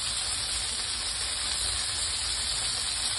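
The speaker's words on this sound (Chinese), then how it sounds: "冚住个盖咧，煎佢两三分钟" Chicken wings pan-frying under a lid give a steady, even hiss of sizzling, continuous and moderately loud with no breaks and no talk.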